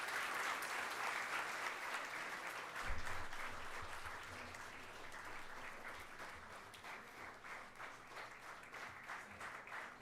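An audience at an academic conference ceremony claps steadily in a big round of applause, a dense sustained patter of many hands that fades slightly toward the end, with no speech.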